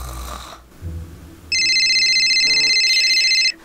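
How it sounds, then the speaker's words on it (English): A phone rings in the middle of the night at 3 a.m.: after quiet rustling, a loud electronic ringtone starts and repeats steadily for about two seconds, then cuts off. "My phone's ringing again!"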